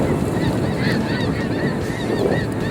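A flock of snow geese honking together in a continuous, dense chorus of overlapping calls over a low rumbling background, heard during a hunt with no talking.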